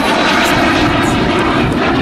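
A Fouga Magister jet roaring overhead at the St Brieuc air show, a loud, sustained engine rumble and whoosh filling the whole moment without letup.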